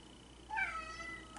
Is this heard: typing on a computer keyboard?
no